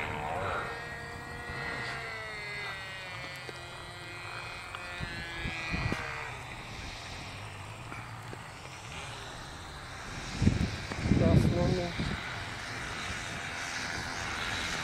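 A small airplane's engine drones faintly at a distance on a landing approach, fading in and out, with a louder rush and rumble near the end as it touches down on grass; people talk over it.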